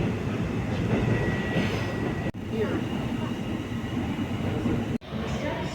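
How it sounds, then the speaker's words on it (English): Almaty metro train running, a steady loud rumble of wheels and carriage noise throughout, broken by two brief sharp dropouts, with no clear talk. "Metro is very clean and safe."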